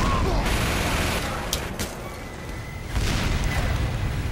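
Rocket explosions in the Team Fortress 2 shooter, several booming blasts and bursts of gunfire in quick succession, loud and close amid chaotic combat noise.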